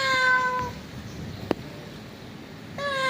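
A house cat meows twice, a drawn-out tonal call at the start and another at the end, with a brief click and quiet room noise between them.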